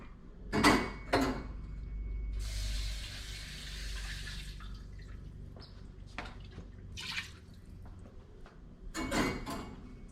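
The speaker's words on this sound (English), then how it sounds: "So I'm going to add a little bit of water to thin this out" Water pours from a tap into a pot of potato leek soup in a home kitchen, a steady stream for a couple of seconds amid clanks and handling noises.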